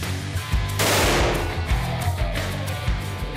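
A single loud gunshot goes off in a ballistics test at Cranfield University's impact and armour lab, its sharp blast followed by a lingering rumble and low reverberation.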